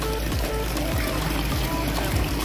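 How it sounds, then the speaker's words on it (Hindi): Water pours steadily onto potted plants at home, a close, continuous splashing stream with a few rhythmic knocks underneath and no one speaking. "तो अब पानी दे दूँ मैं ज़रा"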